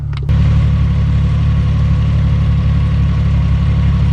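A deep, steady engine idle from the modified exhaust of a Porsche 996 Carrera 4S, low and subdued, running continuously without revving after a brief quieter start.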